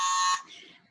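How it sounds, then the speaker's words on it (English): A game show buzzer blares once, a loud steady electronic tone lasting about a third of a second before cutting off into faint room noise, during a classroom quiz contest. "Does everyone have their buzzers?"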